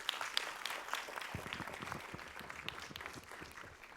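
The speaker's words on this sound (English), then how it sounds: "give them applause." Audience applause for visiting students and their professor at a live global forum, a dense, steady burst of many hands clapping that carries on for several seconds with a faint voice underneath.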